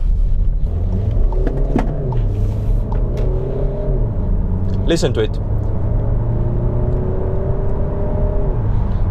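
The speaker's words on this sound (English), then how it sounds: "it still has a diesel rattle" A Skoda Karoq 4x4's 2-litre diesel engine idles with a steady, gravelly rattle and low hum while someone talks over it close by.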